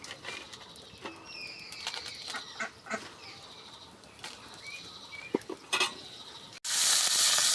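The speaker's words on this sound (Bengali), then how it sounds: "শুকনো মরিচ ভাজবো" Dried red chillies drop into hot oil: a quiet stretch with scattered chirps and light clatter, then a sudden loud, dense sizzle bursting out for the final second.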